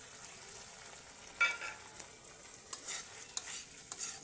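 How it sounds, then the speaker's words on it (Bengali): Fried bitter gourd stirred into a cooked spice masala in a pan, with faint scraping spatula strokes and light sizzling ticks over a quiet steady hiss. "এর মধ্যে আমি এই কেরালা ভাজাগুলি দিয়ে দেব।"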